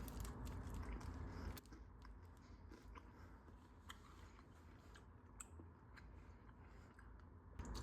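Caffeinated gum from an MRE being chewed up close, with soft wet crunches and clicks scattered over a steady low background rumble, the chewing continuing irregularly throughout.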